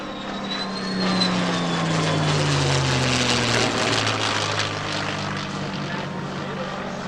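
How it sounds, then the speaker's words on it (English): A World War II era P-51 Mustang propeller fighter flies in formation at an air show, its engine a loud, steady, rumbling drone that swells and slowly fades, with an announcer speaking over it. "Flying in formation today is Jim Beasley Jr. in a beautiful World War II era P-51 Mustang."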